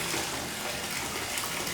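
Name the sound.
hot water running from a bathtub tap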